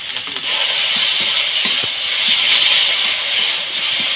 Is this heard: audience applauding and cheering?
no